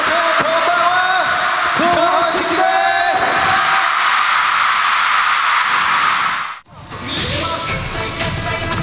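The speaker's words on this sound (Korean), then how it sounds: "공중에서 등장하는 이들의 모습에 관객들은 도쿄돔이 떠나갈 듯 함성을 질렀는데요" A Tokyo Dome concert crowd roars and shouts for a group as it descends from the air, producing a dense, loud wall of cheering and yelling that cuts out sharply for a moment before swelling again.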